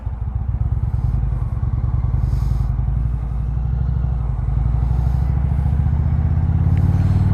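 A 2021 Indian Roadmaster motorcycle rides in standard mode, its engine giving a steady, loud, low rumble with a slight rise in intensity toward the end, heard alone throughout.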